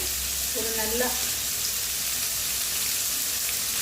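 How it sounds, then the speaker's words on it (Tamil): Onions sauté in oil for a sorrel leaf (pulicha keerai) relish, giving a soft, even frying hiss throughout; a short voice-like tone rises briefly near the start. "நல்லா வதக்கிக்கலாம். வெங்காயம் வதங்கட்டும்."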